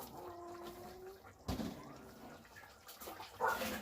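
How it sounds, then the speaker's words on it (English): Water tipped from a container into a pot of Jamaican brown stew pork, a short splashing pour that starts abruptly, pauses, then resumes with a brief gush. "I'm gonna tip a little bit more water in it"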